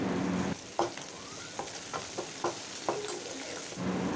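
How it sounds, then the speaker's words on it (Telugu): Tomatoes, coriander and mint fry for chicken curry while a spoon scrapes the pan in several distinct strokes. A low sizzle lies beneath, loudest at the start and end, close by and with no talking. "టమాటాలు సాఫ్ట్గా అయిపోయిన తర్వాత కొత్తిమీర, పుదీనా వేసుకొని కొత్తిమీర, పుదీనా కూడా ఫ్రై చేసుకోవాలి."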